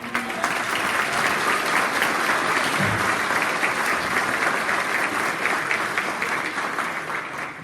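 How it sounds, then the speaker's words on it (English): An audience at an expo dinner breaks into sustained, dense applause that stays loud and even throughout, with a brief voice surfacing in the crowd midway. "A round of applause again for those."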